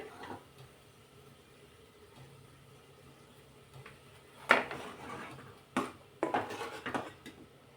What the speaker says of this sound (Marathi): आता गॅस बंद करूयात आपण इथे आणि प्लेटमध्ये काढून घेऊ ही रताळी.